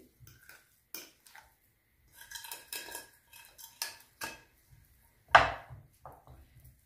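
A spoon stirs vegetables and cheese in a bowl, giving scattered clinks and soft scraping knocks in an irregular rhythm, close and fairly quiet, with no talking.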